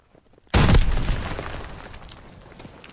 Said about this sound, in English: Now I got the bazooka.